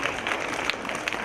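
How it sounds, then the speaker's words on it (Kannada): An audience at a school parents' sports day event claps continuously in a dense, steady wash of applause, moderately loud and unbroken throughout. "ಚಪ್ಪಾಳೆಯ ಮೂಲಕ ನಾವು ಸ್ವಾಗತವನ್ನು ಕೋರೋಣ."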